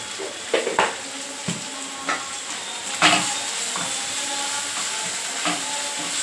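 Chopped okra with turmeric frying in a pan gives a steady, moderately loud sizzle and hiss, punctuated by a few sharp scrapes and knocks of stirring, with no talking.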